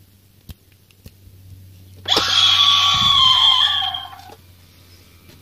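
A shrill, piercing scream from a 3 ft animatronic Halloween prop blares for about two seconds out of quiet, with a low thump partway through, then cuts off back to near silence.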